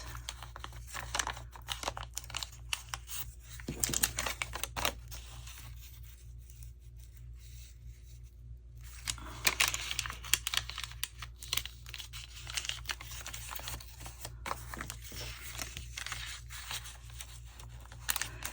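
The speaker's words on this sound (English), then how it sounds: "I'm going to fold it like this." Paper being folded into a pocket with a lid for a craft project: crisp crinkling and creasing in irregular bursts, close and fairly quiet, with a short lull partway through.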